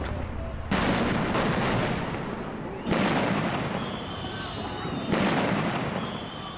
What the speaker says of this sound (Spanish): Pero luego empiezan disparos de afuera hacia adentro.